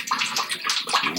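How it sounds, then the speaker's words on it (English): Water splashes and gurgles as it is poured into a cooking pot while making porridge, a steady close pour lasting about a second with no talking. "So add a little water."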